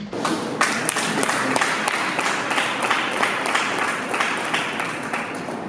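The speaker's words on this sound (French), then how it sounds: "M. Aklogan Armand, sous vos applaudissements, s'il vous plaît." Sustained audience applause from a crowd at a French-speaking award ceremony honoring anesthetists, steady dense clapping filling the whole stretch without pause.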